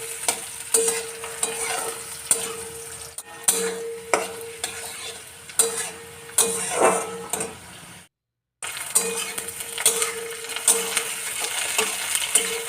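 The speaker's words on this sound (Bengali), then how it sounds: "এবার গাজর কুচিটা দিয়ে দিলাম। গাজরটা আস্তে আস্তে ভাজা ভাজা হবে।" Chopped carrots fry in hot oil with whole garam masala spices, a steady close sizzle broken by repeated scraping stirs and light utensil clinks against the pan, with one brief gap of silence midway.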